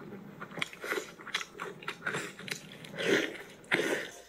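A woman eating noisily, with repeated close, wet bites and crunchy chewing in an irregular rhythm, loud and close-up.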